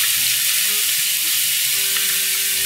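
Garlic and onions hitting a hot pan give a loud, steady broadband sizzle that stays constant throughout, close up with no talking.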